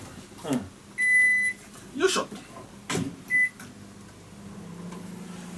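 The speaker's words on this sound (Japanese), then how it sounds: "まず電子レンジで温めるわけですね" A kitchen microwave oven is set to heat Nakamuraya meat buns: the door thuds, buttons beep sharply twice, and there are light handling knocks. A person grunts briefly with effort.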